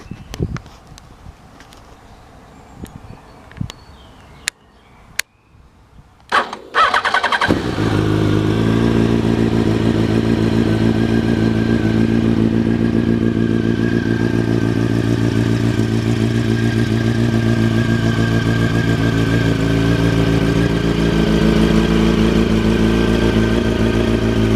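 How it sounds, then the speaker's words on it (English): A motorcycle with a Remus aftermarket exhaust and about 22,000 miles is started after a few clicks and clunks, then settles into a loud, steady, close idle that rumbles without a break. "that's a lovely sounding Remus"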